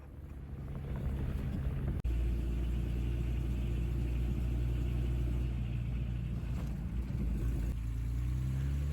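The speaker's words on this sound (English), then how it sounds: "We spent our morning driving around Harvey's Pan." A 4x4 vehicle on an early-morning game drive around Harvey's Pan in Savuti, Botswana, gives a steady low engine rumble with wind buffeting and a single sharp click, and nobody speaks.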